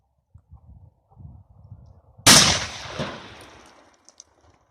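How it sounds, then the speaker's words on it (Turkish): A single loud black powder gunshot with a sharp crack and a lingering boom, preceded by faint rustling and handling noises, then quiet. "Silahımıza koyuyoruz. Ve atışımızı gerçekleştiriyoruz arkadaşlar."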